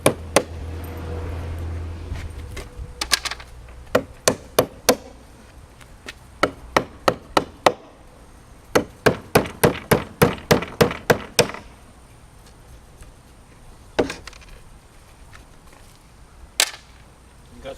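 Sharp hammer blows drive down protruding nails and screws holding plates in place, coming in quick bursts of several strikes with short pauses between, loud and close, with a couple of isolated knocks near the end.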